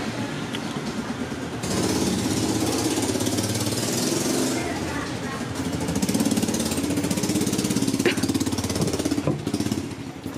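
Motorcycle engines buzz and rev through busy street traffic in Hanoi, Vietnam, a continuous loud mechanical rattle with a surge toward the end.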